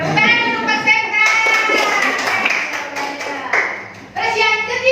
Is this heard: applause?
yes